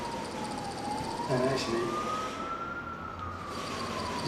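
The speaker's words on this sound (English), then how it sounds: "you hear the sirens going off" An emergency siren wails through a Beirut street, one long rising and falling tone with traffic noise around it, while someone speaks briefly over it.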